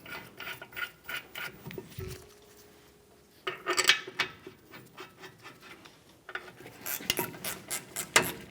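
Torque wrench clicking and ratcheting as caliper bracket bolts, coated with blue thread locker, are tightened to spec on a 1999-2006 Chevrolet Silverado 1500 rear axle; metallic clicks and taps come in bursts, close and moderately loud, with no talking.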